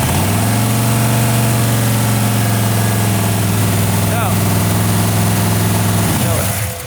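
A car engine idles fast and steady at about 2,500 rpm with a loud, constant drone, then settles slightly near the end.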